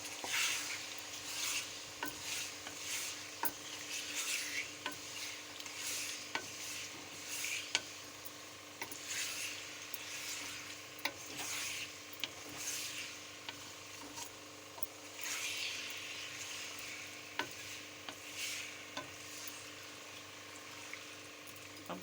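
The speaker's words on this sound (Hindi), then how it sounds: "अब हम इसमें गोभी शामिल करेंगे, इसको अच्छी तरह मिक्स कर लेंगे।" Cabbage being stirred into a chicken and potato curry in a pot, with soft repeated scraping and stirring over a low sizzle, fairly quiet and steady.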